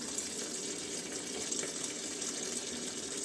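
Water pours into the drum of a Realme top-load automatic washing machine with detergent mixed in, a steady, continuous rushing hiss that stays even from start to finish.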